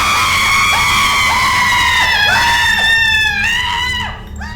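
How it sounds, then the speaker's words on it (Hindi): Shrill, wailing screams ring out in an echoing haunted mansion, a loud, continuous run of overlapping cries with sharp falling glides that fade near the end, with no talking. "सिर्फ उसकी चीखें हवेली में गूंजती रही।"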